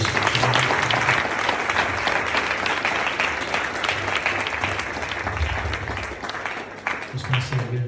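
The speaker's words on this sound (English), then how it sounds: "can we give a round of applause, please?" An audience at the end of a talk breaks into sustained, dense applause that stays loud throughout, with a few voices mixed into the clapping.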